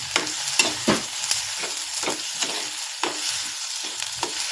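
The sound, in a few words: stirring a vegetable dish frying in a pan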